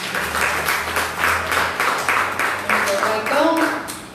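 A Pentecostal church congregation claps in a rhythmic, pulsing beat during a service, with a voice speaking over the clapping.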